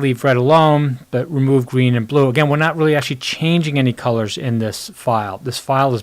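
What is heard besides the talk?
No everyday noise stands out behind the speech.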